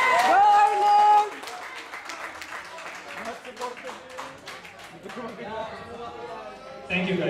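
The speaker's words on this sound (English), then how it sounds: "Please give a big round of applause to Arlene!" Scattered clapping and cheering from a crowd fill the space after a loud electronic tone at a singing competition finals night, with voices mixed in throughout.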